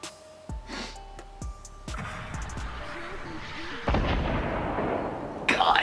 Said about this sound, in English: He's shooting at the fort.